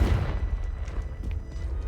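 A Confringo fire-blast spell exploding in the video game Hogwarts Legacy, producing a loud, dense boom with a sustained rumbling tail that fills the whole moment.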